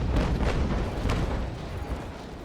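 Naval Action sailing-ship cannon fire comes as a quick series of deep, rumbling booms in the first second and a half. The heavy reports overlap into a rolling barrage that fades into a low rumble.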